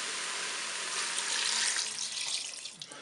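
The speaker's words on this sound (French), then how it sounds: "Je vais rajouter mon bouillon." Broth pours into a Cookeo pot holding softened spaghetti, a steady hissing liquid stream for about three seconds that thins out near the end.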